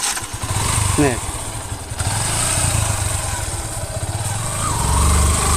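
A motorcycle engine idles and revs steadily throughout a riding lesson outside Mollarhat College, a rough continuous drone with slight throttle changes, while a voice speaks briefly over it.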